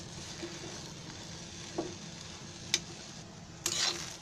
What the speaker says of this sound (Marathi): ही अशी आहे ना कढईमध्ये पहिली अशी सुकीच परतून घ्यायची, त्याच्यात तेल बिल नाही टाकायचं.